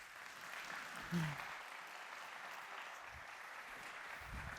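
Brief, faint applause from a conference audience in a large auditorium at a cybersecurity event, soft distant clapping at low level with a small bump near the start.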